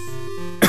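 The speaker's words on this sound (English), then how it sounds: "I have a really bad cough at the moment" A single sharp, loud cough near the microphone, breaking abruptly out of a steady electronic hum from a Vectrex game system.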